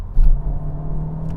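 Honda Civic Type R and Toyota GR Yaris accelerating hard in a drag race, a loud steady engine drone with a surge near the start, held at full throttle throughout.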